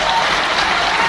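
A live audience bursts into loud, sustained applause at a speaking event, a dense, even wash of clapping with no voices over it.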